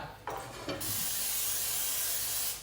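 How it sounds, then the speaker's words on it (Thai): A short burst of cooking oil spray into a frying pan hisses loudly and steadily for about two seconds after a couple of light clicks, then tapers off. "เดี๋ยวใส่น้ำมันสเปรย์ก่อน"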